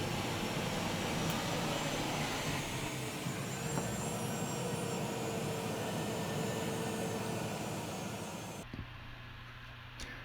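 A propeller airliner's engines roar steadily and loudly from inside the cabin as it takes off from Lord Howe Airport on Lord Howe Island, then the noise drops off abruptly near the end.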